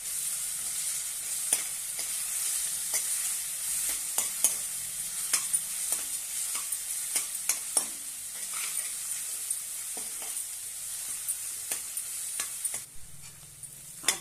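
Ginger, green chili and garlic fry in oil in a pan, a steady close sizzle with scattered spoon scrapes and clicks throughout, no voices.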